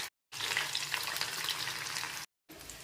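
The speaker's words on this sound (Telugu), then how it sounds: "ఇలా మంచిగా పకోడీగా వేగిపోయింది నూనెలో" Brinjal pakoda deep-fries in very hot oil in a kadai, a close, bubbling sizzle in two bursts separated by brief silent gaps.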